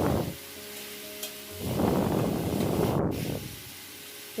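Green vegetables stirred and frying in a pan for a light evening meal, a steady close sizzle that swells loudly midway with scraping stir noises, then eases off.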